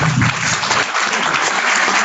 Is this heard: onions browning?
no